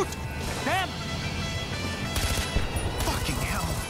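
Gunfire in the video game Far Cry 4, with sharp repeated shots and crashes clustered in the second half, close and loud over a busy game soundscape with a brief whistling effect early on.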